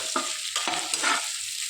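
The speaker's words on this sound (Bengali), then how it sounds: "তো এটা আরেকটুখানি ভেজে নামিয়ে দেবো।" Pointed gourd paste with potato fries in hot oil, giving a close, crackling sizzle broken by a few short scraping stirs, with no talking.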